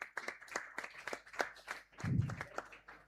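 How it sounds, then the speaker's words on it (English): Scattered audience hand claps at a ceremony ring out at an irregular pace, fairly faint and distant, with a brief low thump partway through. "can we please have a round of applause"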